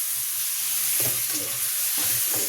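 Small gullivendala clams frying in a hot pan, a steady broadband sizzle with a few soft stirring scrapes and clatters near the one-second and two-second marks, close and fairly loud, no voices.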